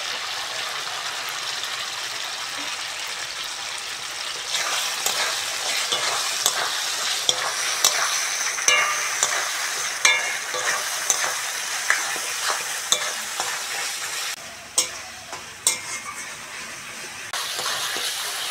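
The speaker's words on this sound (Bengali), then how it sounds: "চিংড়ির সঙ্গে সব মশলাগুলো ভালো করে কষে নিয়েছি" Fried prawns sautéed with spices in a pan: steady frying sizzle with repeated sharp scraping clicks of a spatula stirring against the pan, close and loud with no talking.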